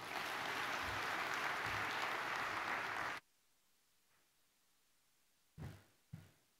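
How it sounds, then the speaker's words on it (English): A crowd claps loudly for a Kenyan official at a diplomatic anniversary celebration, dense applause for about three seconds that stops abruptly, followed by near silence and a couple of brief knocks. "Round of applause to His Excellency, the PCS."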